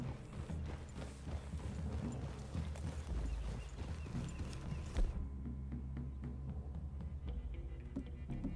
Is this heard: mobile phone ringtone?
no